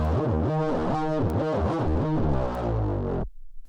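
Gliding synth tones from Misa Quadwave or Triwave digital guitar hammer-ons and slides, heavily effected and distorted, bending smoothly between pitches in a steady phrase before stopping abruptly.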